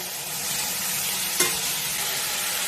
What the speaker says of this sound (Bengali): একসাথে ভালো করে ভেজে নেব